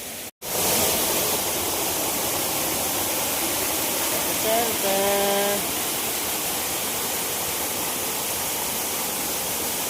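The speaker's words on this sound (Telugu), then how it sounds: "వాటర్ ఫాల్స్ అయితే ఇలా ఉంది ఎక్సలెంట్గా ఉంది కదా" A loud, continuous roar of the overflowing Mettuguda waterfall fills the whole clip, unbroken, with a short tonal sound cutting through midway.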